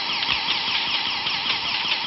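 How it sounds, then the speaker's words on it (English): A shrill, psychotic-sounding car alarm on a cult horror movie soundtrack wails continuously and loudly with a warbling, cycling pitch, filling the whole stretch without pause. "Psychotic car alarm isn't really my type of music"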